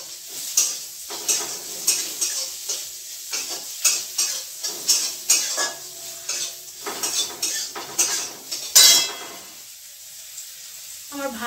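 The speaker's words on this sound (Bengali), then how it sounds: "করলাগুলো ভাজছি" Bitter gourd slices frying in a kitchen pan: a loud sizzle broken by repeated scraping stirs and clinks of a utensil against the pan, in a steady rhythm that falls quiet near the end.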